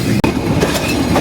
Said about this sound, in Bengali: চিত্রা এক্সপ্রেস ট্রেনটি মুহূর্তে আমরা পুরাদাহ জংশন ছেড়ে চলে যাচ্ছি